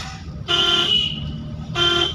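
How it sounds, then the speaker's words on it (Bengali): Car horn honked twice during a driving lesson, two sustained loud blasts, the first about half a second long, then a short gap and a second blast, close to the microphone over low engine hum. "হর্ন মারো, হর্ন মারো"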